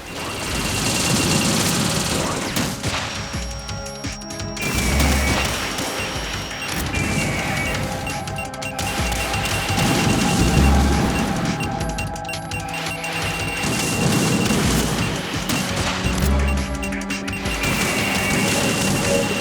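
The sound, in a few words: missiles exploding in Metal Gear Solid 2 video game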